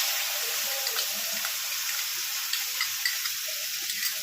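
Freshly ground spice paste goes into hot tempering in a pan for Bengali chana dal with coconut. It sizzles with a steady, bright hiss and faint crackles that stay close and even throughout, with no voices.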